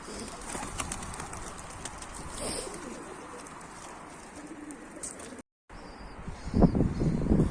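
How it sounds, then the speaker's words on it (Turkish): Pigeons cooing overhead on a rooftop: soft, repeated coos from a few birds at close to middling distance over low outdoor ambience. A short dropout comes before a louder burst of rustling or wing flaps at the end. "Tepemde de iki tane kuş var"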